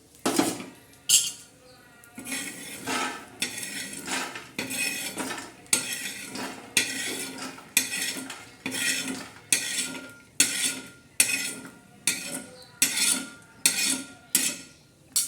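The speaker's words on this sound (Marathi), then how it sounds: "आता आपले शेंगदाणे भाजलेले आता आपण काढून घेऊ" Roasted peanuts being scooped out of a hot pan, heard as a long run of regular metal scrapes and clinks, roughly one stroke every second, close and fairly loud, with no voices.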